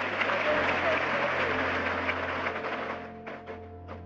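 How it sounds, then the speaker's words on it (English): Audience applause at a speech by someone, a steady wash of clapping that fades toward the end while a low hum runs beneath and a voice breaks in at the tail. "You should give me a round of applause for my"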